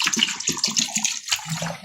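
Water splashes and pours into a container of freshly gathered shellfish on a fishing trip, a close, steady trickling and sloshing with irregular bursts, no voices.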